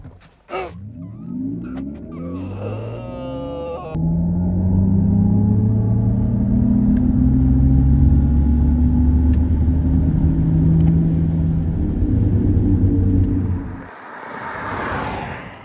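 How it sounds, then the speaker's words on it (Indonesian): A Mercedes EQS electric car accelerates hard in sport mode with a loud, smooth motor whine and low rumble that holds for about ten seconds before easing off. "ada suara gitu kalau kita lagi injek rem terus gas di mode sport"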